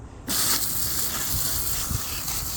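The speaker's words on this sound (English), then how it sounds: "we can use the actual spray cleaner to clean it properly" A sudden steady spray of cleaner onto a K&N air filter from a Mercedes-Benz C200 Kompressor starts up and hisses continuously at close range, a bright aerosol rush with small fluctuations.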